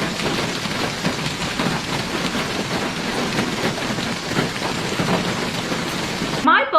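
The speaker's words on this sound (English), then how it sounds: "The video itself is called Cozy Rain Ambience, Indoor Rain Sounds" Steady indoor rain ambience: dense, continuous patter of rain on surfaces with a soft low rumble, even and unbroken until it cuts off abruptly near the end.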